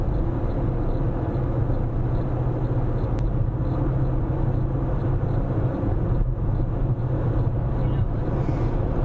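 Steady road and engine drone from a car heading southbound on Interstate 75 in extreme northern Tennessee, a continuous low rumble of tires and wind that holds level throughout with no talking.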